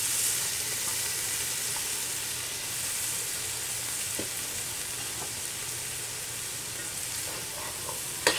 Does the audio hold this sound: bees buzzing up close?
no